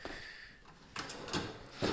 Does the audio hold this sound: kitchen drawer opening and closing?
yes